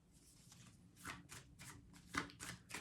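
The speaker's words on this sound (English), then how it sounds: "as I was just shuffling the cards" A deck of cards is shuffled in a quiet room: about eight soft, papery riffle bursts in a loose rhythm, faint and close.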